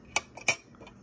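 Thrift-store heirloom silver spoons, heavy in the hand, clink together in two sharp close metallic taps followed by a few fainter ticks, with no voices.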